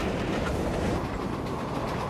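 A live New York City subway train rolls past on the rails, a steady loud broadband rumble with faint clickety-clack of wheels running throughout, no voices.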